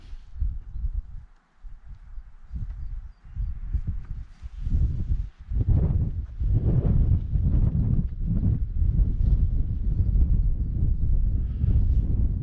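At a misty summer wild camp, wind gusts and buffets the microphone in loud, low rumbling surges that build and stay strong toward the end.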